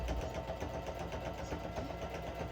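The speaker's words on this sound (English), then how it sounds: "We'll then clip and sew along the shoulder and side seams." A sewing machine stitching the shoulder and side seams of a patchwork chore jacket, running in a fast, steady mechanical whir with a rapid repeating needle beat, close and faint, with no talking.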